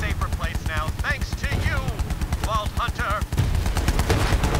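Rapid gunfire from the co-op shooter Borderlands 3, a dense stream of repeated shots running nearly the whole way under overlapping voices of two players talking.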